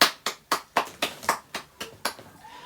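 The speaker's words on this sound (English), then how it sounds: "Let's have a not cringy round of applause for that." A slow round of hand claps at a school year-end gathering, about nine evenly spaced claps at a steady pace, close and distinct with nothing else heard.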